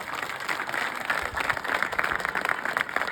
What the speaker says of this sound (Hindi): दोनों पुलिस वाला भाई मन बर घलो ताली बजा दो